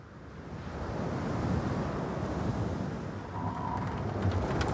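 Ocean waves and wind surround a sailing ship, the Adventure Galley, crossing the Atlantic toward South Africa: a continuous broad rushing surf and gusty wind, swelling and easing steadily, with no voices.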